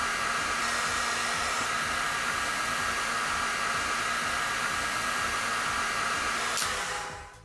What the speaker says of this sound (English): I put the heat gun at the maximum temperature, and I direct the hot air upwards so as not to burn anything.